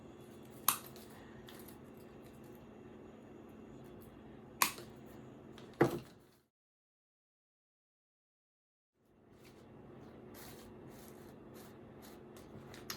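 Scissors cutting artificial flower stems for a St. Patrick's Day wreath, a few sharp close snips over soft rustling and handling, with a silent gap partway through and no talk.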